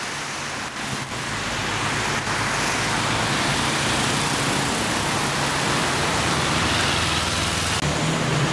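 A BMW Z4 sports car passes by, a steady, loud broadband roar of engine and tire noise that holds for several seconds, with no voices.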